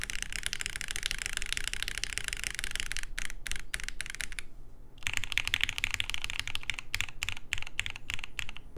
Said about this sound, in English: The plateless jiggly typing experience is not for everyone.